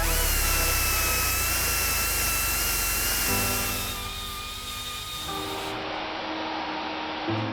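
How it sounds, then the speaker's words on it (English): A power tool spinning Norton sanding wheels deburrs the port edges of a Mazda RX7 Spirit R rotary engine, a steady high-pitched whine that shifts pitch as the tool loads and eases against the metal, close up and with no talking. "So now we're just going to deburr all the edges."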